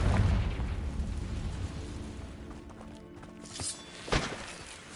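A Confringo blasting spell explodes in Hogwarts Legacy: a deep rumbling boom fades out, followed by a couple of smaller thumps and bursts, with no one talking.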